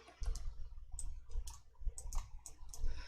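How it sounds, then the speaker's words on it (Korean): A computer mouse clicked repeatedly while setting up an Excel field, producing a steady run of small, close clicks over a low rumbling background hum. "평균으로 다시 클릭해 놓으실게요"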